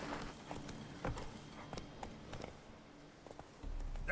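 Hooves of Roach, the horse in The Witcher 3, thud in scattered, uneven beats over soft ground at a gallop, with quiet spaces between hits and a heavier rumble swelling at the end.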